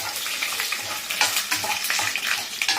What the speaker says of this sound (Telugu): వేయించుకోవాలి.